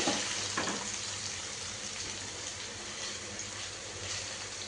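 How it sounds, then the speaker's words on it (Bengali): Food frying in a wide pan, a steady dense sizzle holding even and moderately loud throughout, with no other clear events. "সুন্দর করে সবগুলো ভাজা হয়ে যাক"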